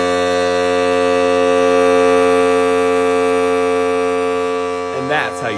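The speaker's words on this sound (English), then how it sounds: "Today, we're building a DIY air horn." A loud, steady honking drone from a homemade balloon air horn being blown, holding one buzzy tone for about five seconds before breaking off as a voice comes in.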